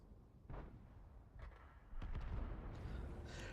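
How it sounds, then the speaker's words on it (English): World of Tanks tank cannon fire booms faintly in the distance, several separated heavy shots thudding over a low rumbling battlefield background. "Somebody's shooting and missing,"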